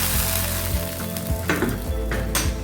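Spices tempering in hot ghee for khichdi sizzle and crackle steadily, with a few sharper pops and spatters rising over a low background hum.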